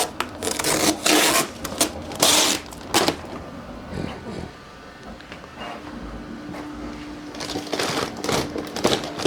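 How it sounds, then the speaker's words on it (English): Scissors hacking through protective plastic wrap on the front of a Bambu Lab X1 Carbon 3D printer, heard as close, uneven bursts of rustling, crinkling and snipping with a quieter stretch in the middle. "just take a pair of scissors and cut a slice in the plastic"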